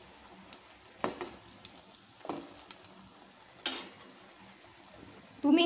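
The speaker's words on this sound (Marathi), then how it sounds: "ब्रेडचे जे तुकडे आहे ते छान असे तळून घ्यायचे आहेत" Bread pieces fry in hot oil, a soft bubbling sizzle broken by several crisp clicks and taps of a utensil against the pan, with a louder clatter at the very end.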